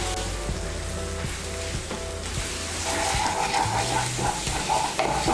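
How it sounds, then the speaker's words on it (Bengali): Masala with cumin and pepper powder stirred and fried in a pan for Bengali egg malai curry, a steady sizzle with scraping spoon strokes throughout, growing louder and brighter in the second half, over a low background hum. "জিরে গুঁড়ো আর গোলমরিচ গুঁড়োটাকে ভালো করে মিশিয়ে নিয়ে মশলাটাকে আমি আর একটু কষিয়ে নেব"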